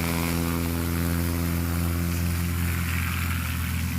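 A STOL propeller airplane taking off steeply at a Heritage STOL race, heard as a loud, steady engine and propeller drone with strong harmonic buzz that fills the whole stretch without pause or talk.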